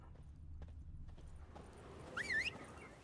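Roach, a horse in The Witcher 3 video game, canters in with a soft, steady patter of hooves on ground, then gives a short, bright whinny near the end.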